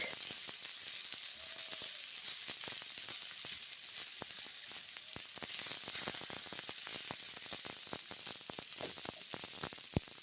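Moong dal and eggplant are stirred in a hot pan in a home kitchen. A continuous sizzle runs throughout, with many small crackles and pops close by. No voices are heard.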